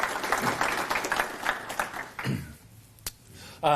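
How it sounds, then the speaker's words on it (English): Audience applause at the 2026 Swimming Victoria Awards for the team Funky Trunks, a steady dense clapping that thins out midway, leaving a few scattered claps before a brief burst at the end. "So a big round of applause for Funky Trunks for their great work."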